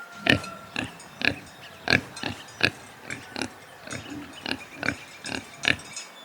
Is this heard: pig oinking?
yes